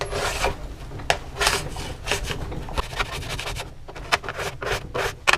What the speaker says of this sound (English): I like to scrape in the direction that the board's going and continue to scrape in that way the entire time.